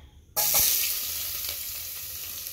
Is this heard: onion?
yes